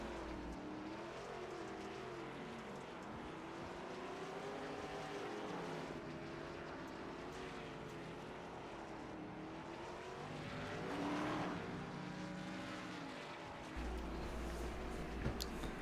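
Race cars on a Knoxville short track during a national tour race: a steady, continuous engine roar with shifting pitch as cars pass, holding a fairly even loudness and swelling briefly near the end, with no talk.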